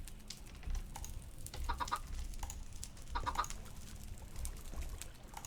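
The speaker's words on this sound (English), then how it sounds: "All I hear is chickens, by the way." Quiet, scattered clucking of chickens in the video game Minecraft (Sky Factory 3 modpack), in short bursts over a faint background hum.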